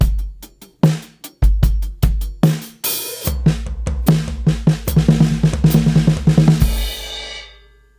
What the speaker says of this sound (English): the single paradiddle, and then I guess a new rudiment, the paradiddle diddle, going into the single stroke roll